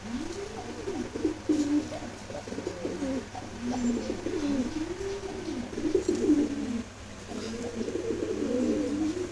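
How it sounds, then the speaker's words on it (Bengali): Giribaz pigeons coo in repeated low, rolling phrases close by, a steady series of throaty calls over a faint background hum. "এটা হচ্ছে গিরিবাজ কবুতর।"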